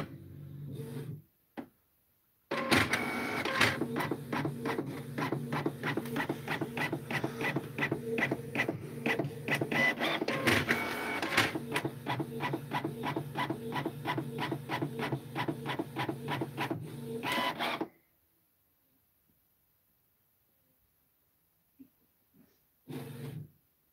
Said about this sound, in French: ce que je vais faire, c'est une impression test sans fil